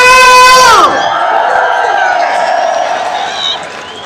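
A crowd at an outdoor freedom rally in London cheers and shouts loudly, a sustained roar of voices following a brief amplified vocal call at the start.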